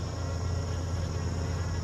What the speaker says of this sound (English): I have a couple of them buzzing around me right now here and there